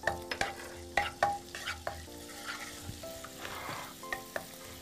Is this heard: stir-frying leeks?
yes